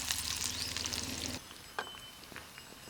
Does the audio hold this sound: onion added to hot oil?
yes